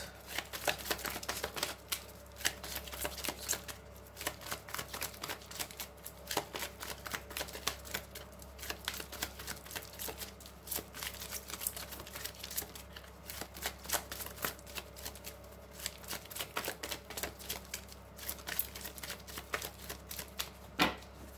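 Tarot cards shuffled by hand in long, steady stretches of dense flicking and riffling. The sound is close and even, and nobody talks.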